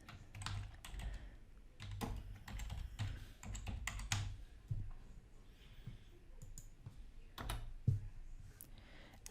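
Quiet, irregular tapping on a computer keyboard, bursts of key clicks with short pauses between, close by and alone.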